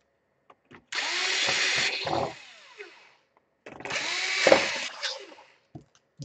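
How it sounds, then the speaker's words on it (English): A torque screwdriver set to its lowest torque drives tiny laptop screws on an Asus a53s/k53s, giving two separate whirring runs of about a second each with faint clicks between them, close and fairly quiet. "this is a torque screwdriver. It's set to the smallest little torque there is."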